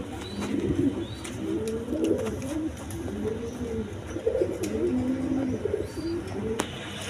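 A pair of high-flying Giribaz pigeons with red gear coos over and over in a rolling, throaty run of low calls that lasts throughout, up close and fairly loud, with no talk.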